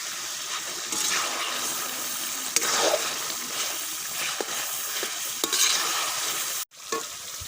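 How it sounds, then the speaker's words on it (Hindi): Masala frying in ghee in a karahi pan for chicken karahi, with a steady soft sizzle and scraping stirs, fairly close and quiet, ending with a brief pause. "अल्लाह के फजल से मसाला हमारा अच्छी तरह फ्राई हो गया।"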